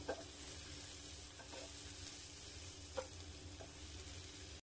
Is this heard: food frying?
yes